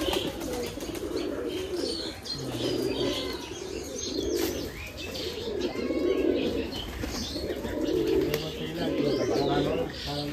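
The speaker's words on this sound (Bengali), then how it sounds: "এটা বাজির কবুতর।" Racing pigeons in a pigeon loft coo in steady repeated bursts, the throaty rhythmic calls overlapping with chirps and occasional wing flaps, and a voice briefly talking nearby.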